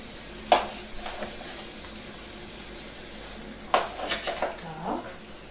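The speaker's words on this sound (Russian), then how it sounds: "То есть сейчас мы закладываем сюда 4 столовые ложки соли." Salt spooned from a tablespoon into a pot of marinade water for canned tomatoes in a home kitchen, giving a few sharp clinks of the spoon against the pot around light scraping and stirring.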